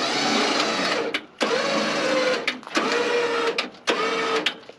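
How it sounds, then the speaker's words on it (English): A lower winch hoists a rig onto a trailer, its motor whirring in three loud, sustained bursts separated by brief pauses, each run carrying a steady whine close to the microphone. "we're having to use the lower winch to pick this up so that we can get it positioned on the trailer where we want"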